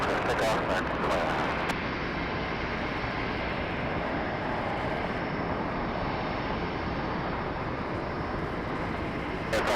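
A jet airliner rolls for takeoff on runway 25 right at Los Angeles International Airport, its engines a loud, steady broadband roar that fills the whole stretch without letup, with faint radio chatter mixed in.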